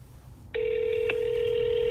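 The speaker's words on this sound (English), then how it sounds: "pick up the phone. Pick it up." A telephone line starts with a sudden steady tone, joined midway by a brief click, heard clearly and alone with no talk.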